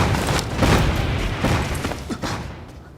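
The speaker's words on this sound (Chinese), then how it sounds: "是爆炸声。" Explosions rumble through an underground palace, a dense, sustained roar of booming blasts that fills the whole span loudly before easing off at the end.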